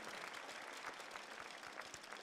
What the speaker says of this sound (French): On applaudit Eva Lrona